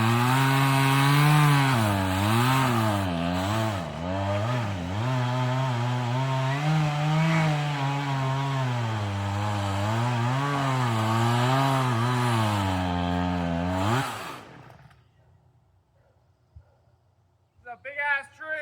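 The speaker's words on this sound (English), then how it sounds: "Chainsaw doesn't seem to be cutting it." A chainsaw revs loudly and continuously as it cuts into a huge tree, its engine pitch wavering under load for about fourteen seconds before shutting off and leaving near silence.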